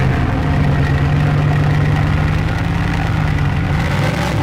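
A Bugatti engine fitted with a custom exhaust idles steadily, a loud, deep, continuous drone with a faint rough pulse and no revving.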